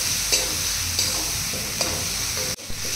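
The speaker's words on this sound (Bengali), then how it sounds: "মাংস বেশি করে কষাতে হবে।" Meat being stir-fried (kosha) with ginger, chilli, garlic, tomato and coriander in a pan at a picnic: a steady, close sizzle with repeated scraping stirs, then a brief sharp drop near the end.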